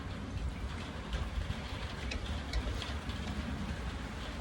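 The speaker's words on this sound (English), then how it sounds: "It's just started raining on me, so I'll probably have to cut this a bit short." Steady rain falls outdoors as a dense, even hiss of drops with no breaks, fairly loud and filling the whole stretch, with no voice over it.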